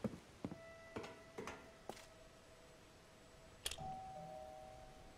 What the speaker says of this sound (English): Oh, there's a doorbell in there.